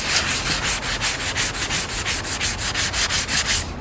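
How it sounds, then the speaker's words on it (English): Pre-cut wooden couch-table legs being sanded by hand: steady, close rasping strokes in an even back-and-forth rhythm, about two per second, with no talking. "Go through and sand them down."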